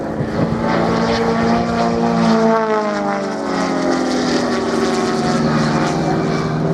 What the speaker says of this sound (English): Torque roll, turning the airplane on the engine as they climb away vertically